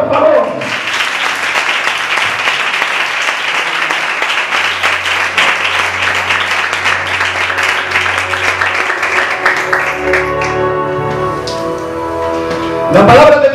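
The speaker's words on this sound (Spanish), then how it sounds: "Pueden aplaudir para Dios, por favor." A church congregation applauds during a sermon, with loud, dense clapping for about ten seconds that thins out and gives way to sustained musical tones.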